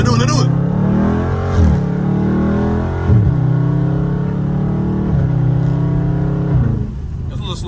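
Dodge Scat Pack car pulling away at light throttle, a deep steady engine drone rising in pitch through several gear changes, heard from inside the car.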